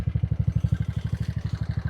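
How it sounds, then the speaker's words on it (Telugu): A motorcycle labours up a rough, broken road, its engine thumping in a fast, even, throbbing rhythm, close and fairly loud with no speech. "అసలు రోడ్డు బాగాలేదు, బైక్ ఎక్కట్లా."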